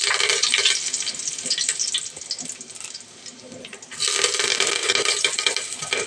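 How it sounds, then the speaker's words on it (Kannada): Curry leaves crackle and sizzle as they drop into hot oil in a village kitchen. A loud, close hiss eases for a moment, then surges back strongly. "ಕರ್ಬೇವಿನ ಸೊಪ್ಪು ಹಾಕ್ತಾಯಿದ್ದೀನಿ."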